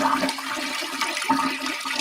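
A toilet flushes with a steady rushing, gurgling wash of water that holds at a fairly even level for about two seconds, close and alone with no talk.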